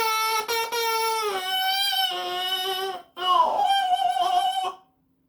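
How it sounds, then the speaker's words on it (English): A bassoon double reed blown on its own, without the instrument, gives a buzzy, squawking tone that bends and wavers in pitch across two breaths, loud and close with a short gap between them. "if you just play the reed by itself, it sounds something like this"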